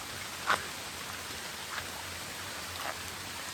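Rain falls steadily outside during a monsoon, a soft even hiss with a few faint individual drops standing out, no voices.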